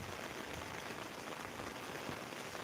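Heavy rain pours down in Velichala, a thick, steady patter of drops striking surfaces, loud and unbroken with no voices.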